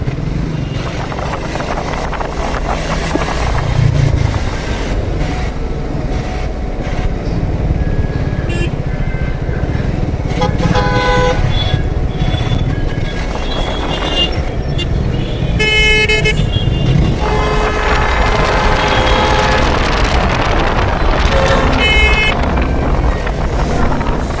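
Busy road traffic in Dadar, Mumbai, rumbling nearby with several car horns honking, some short toots and some longer blasts, plus wind buffeting the microphone.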